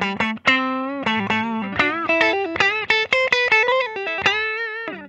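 A 1994 Gibson LP Studio in ebony, electric guitar played through its neck pickup, strums a quick chord sequence with rapid picked attacks that ring out cleanly and fairly loudly through an amp with light effects, with no voice.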